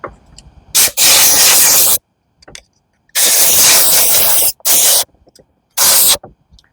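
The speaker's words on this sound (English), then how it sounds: "you need to blow with the compressor air quickly" Compressed air from a compressor blasting onto a wet carpet cleaner during a Victa Powertorque VE40 repair, in several loud hissing bursts of varying length separated by short silences.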